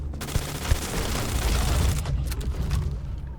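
Gunfire from a gun in the video game Starfield: a dense, sustained burst of rapid shots and booming blasts, loud and continuous throughout with no talking.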